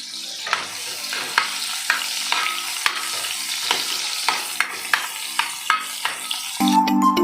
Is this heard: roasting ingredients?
yes